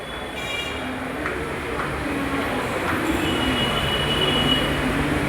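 A train runs near Badlapur, a steady loud rumble of rolling wheels and carriages heard from inside, with a faint squeal and low murmur of voices underneath.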